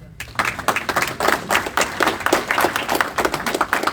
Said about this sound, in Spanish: A los compañeros del CNA, un aplauso por favor.